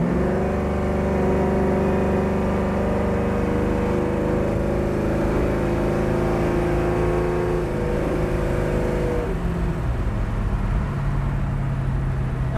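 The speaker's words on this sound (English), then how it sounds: "we'll take it up through a couple gears going back to the showroom" 1967 Ford Mustang Fastback engine accelerating from inside the car, a loud steady drone climbing in pitch, then a shift near the end drops the revs before it pulls again, no talking.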